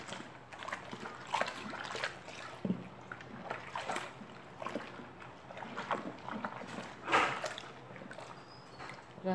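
Homemade aloe vera and lemon liquid soap stirred in a container, with repeated wet sloshing and swishing strokes in an uneven rhythm, close and moderately loud.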